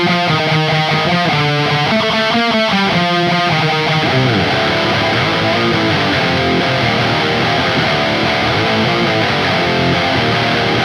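Distorted electric guitar plays a riff, opening with a clean-toned rhythmic arpeggiated pattern before crashing into thick, loud, saturated chords that ring on to the end.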